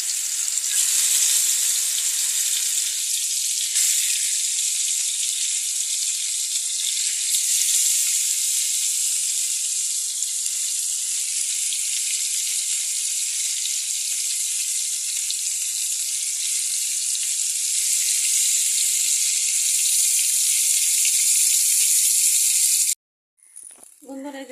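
Fish frying in mustard oil in a pan alongside chilies, a loud close sizzle that stays constant for over twenty seconds with a fine crackling hiss, then cuts off abruptly before a few faint sounds.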